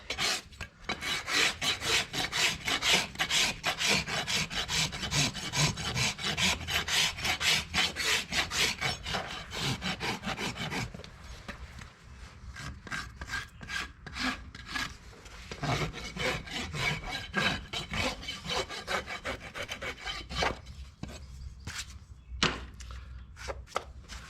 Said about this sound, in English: when you're rasping on your foot, you want to hit the high spots first